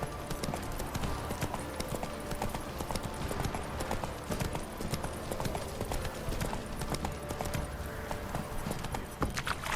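Rhythmic clip-clop of horse hooves on a hard surface in the video game The Witcher 3, continuous and fairly close, with ambient background noise.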